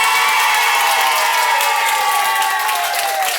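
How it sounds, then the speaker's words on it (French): Audience applause and cheering for a candidate at a Miss and Mister pageant held in a nursing home, a steady, dense wash of clapping with a few whoops that holds loud throughout before easing slightly at the end. "applaudissements pour cette candidate une première fois"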